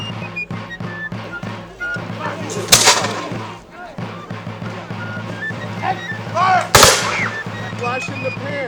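Flintlock muskets fire at a colonial militia reenactment in winter camp, Rhode Island, with two sharp, loud reports a few seconds apart amid a busy crowd and background voices.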